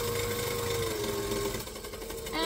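A sewing machine stitches a craft tote bag, a dense mechanical whir running steadily, then briefly easing before resuming, close and clear.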